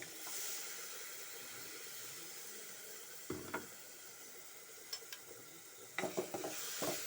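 A roasted coconut curry mixture for Kerala jackfruit-seed curry is stirred in a pan, with a faint continuous hiss and sizzle broken by scattered scraping knocks that grow busier toward the end.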